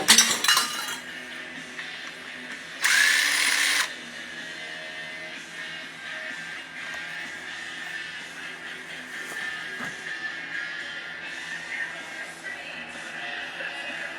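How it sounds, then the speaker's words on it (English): Tools remove bolts from a Pontiac 301 engine, with light metallic clinks and a brief, harsh mechanical burst near the start, fairly close over a quiet background. "let's take these bolts out"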